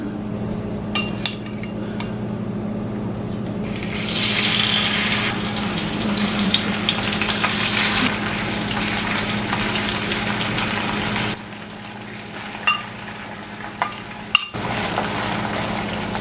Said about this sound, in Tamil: இந்த நெத்திலியை பொரிக்கிறதுக்கு இந்த தாய்ச்சில் நான் எண்ணெய் வச்சு ஹீட்டை கொண்டு வந்து மீடியத்துலேருந்து கொஞ்சம் குறைச்சி வச்சிருக்கிறேன்